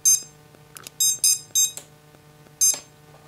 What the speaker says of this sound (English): Now the beeper function, that's why we clicked on that beeper setting in the configuration.